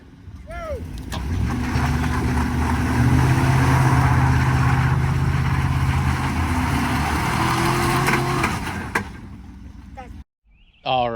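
A Cadillac Escalade and a Chevrolet Avalanche engage in a tug-of-war, with engines roaring loudly and tires straining in a sustained, rising rumble for several seconds before it drops off, with people talking over it.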